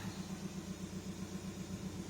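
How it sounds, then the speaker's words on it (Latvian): A Volkswagen Passat B6 engine idles steadily with an even, low rhythmic chugging, fairly quiet and unbroken. "pēc skaņas dzirdam arī motors strādā normālāki"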